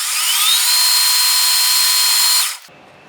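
A power drill whines steadily at high pitch as a number 11 drill bit bores about 0.285 inches deep into metal for a couple of seconds, then stops abruptly, leaving quiet room noise.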